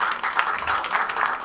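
A crowd applauds at the launch event for a new film, with short, moderate clapping from many hands blending into a continuous patter.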